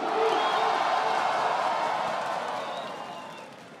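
A rap battle audience roars with cheers and scattered whoops, a dense crowd wash with applause that stays loud for a few seconds and then slowly thins out.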